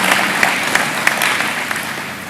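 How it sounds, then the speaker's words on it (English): An audience at a jobs summit applauds, steady dense clapping with a few sharper individual claps standing out, loud and continuous to the end. "let's give them a round of applause for the wonderful work that they have been doing."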